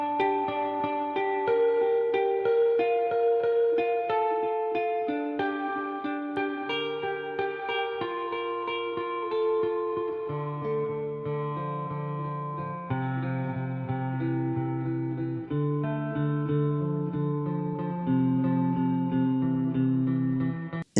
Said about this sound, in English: There's a guitar on the left and the guitar on the right, and they're actually playing in a kind of canon